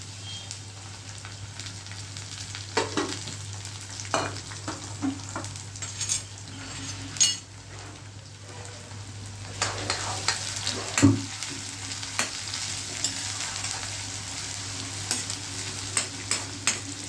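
Onion, garlic, tomato and bay leaf fry in a tempering for Punjabi dal fry, giving a soft, steady sizzle with intermittent stirring clinks and scrapes over a constant low hum.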